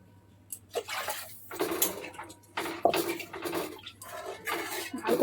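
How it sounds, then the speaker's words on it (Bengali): Water rinsed out of a mixer jar is poured into frying masala for a poppy-seed pabda fish dish, making several close bursts of splashing and sizzling hiss, with clinks of the bowl against the pan between them. "এবার আমি এই মিক্সি ধোয়া বাটির জলটা পুরো দিয়ে দেবো।"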